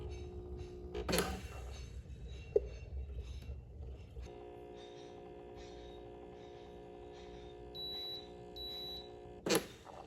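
A Breville Barista Express espresso machine gives two short, high electronic beeps in quick succession during a cleaning cycle, over a low mechanical hum, with a few clicks and knocks earlier.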